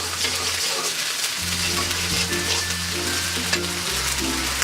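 Onion paste sautéing in a pan for chicken rezala, a steady close sizzle and fry with faint stirring scrapes, a low hum underneath, no talking.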